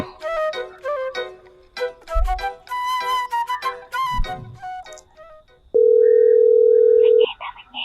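An outgoing phone call that goes unanswered: a tinkling electronic melody of short notes gives way to a loud, steady single tone lasting over a second, then faint beeps.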